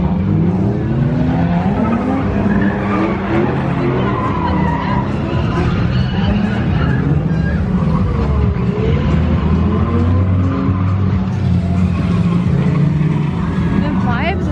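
Cars drifting at a drift night event, engines revving and rising and falling with tire squeal and passing cars, loud and continuous with crowd chatter underneath.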